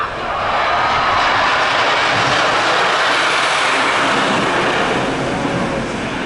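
The Superman roller coaster train at Six Flags Magic Mountain roaring past, loud broadband rumble swelling in and tailing off over a few seconds.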